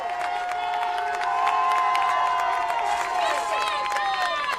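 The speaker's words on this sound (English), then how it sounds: "Fans are cheering on every pitch." Spectators at a 10U youth baseball world series final cheer loudly, with shrill children's shouts and scattered clapping layered over a constant crowd roar.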